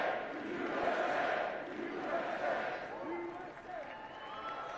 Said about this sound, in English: Everybody's standing. Yeah. Huge applause.